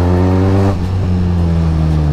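A Benelli Leoncino motorcycle engine runs loud and close, a strong harmonic growl with the pitch shifting as the throttle changes, with no talk over it.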